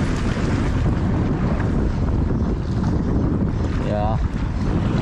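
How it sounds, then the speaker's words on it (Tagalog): Strong wind roars steadily across the microphone over open water at sea while squid fishing, a constant heavy buffeting rush with faint background sounds. "Medyo malakas ang hangin eh."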